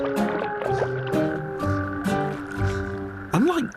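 A male natterjack toad calls from a shallow puddle in coastal dunes, with repeated croaking bursts over a layered tonal background and a rising, swooping sound near the end.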